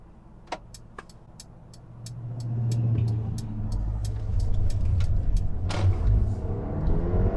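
A 2021 Mercedes-Benz GLA small SUV with all-wheel drive and an 8-speed transmission accelerates on the road, its engine rumble building steadily under cabin noise, with a few sharp clicks early on.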